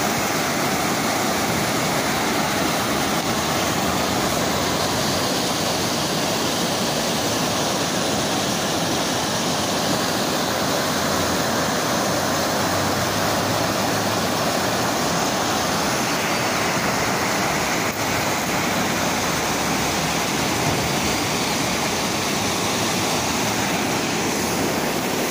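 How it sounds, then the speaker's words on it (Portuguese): Waterfall at Santo Antônio de Pádua in northern Rio de Janeiro state, a steady, dense roar of cascading water that continues unbroken throughout with no voices. "Barulhinho da cachoeira caindo."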